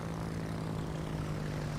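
Slow propeller planes flying in the naval combat game World of Warships, a constant low engine drone with a steady hum and no speech over it.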